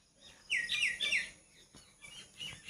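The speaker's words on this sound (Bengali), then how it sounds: "পাখিগুলো কিন্তু এখানেই আছে সব।" Small birds chirp and tweet in quick bursts on a calm morning around a garden with flowers and pomelo trees, soft and somewhat distant over quiet background.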